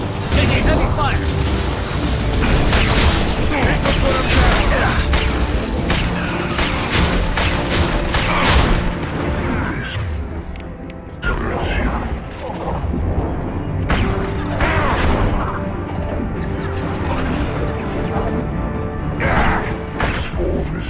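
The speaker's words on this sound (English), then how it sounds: "Taking heavy fire!" Sustained heavy gunfire in the sci-fi shooter Mass Effect 2: dense, loud bursts and booms roll continuously, easing slightly later on, with character voices calling out over the combat.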